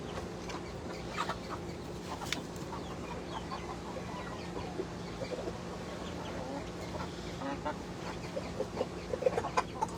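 Laced Cochin hens, a large heavy chicken breed, cluck softly and intermittently in a coop, faint and at moderate distance over a low steady hum.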